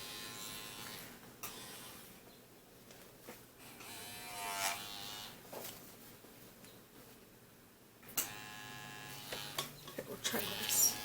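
Tattoo machine buzzing steadily while tattooing a flower design, a faint electric hum that swells in bursts, with a person talking quietly over it.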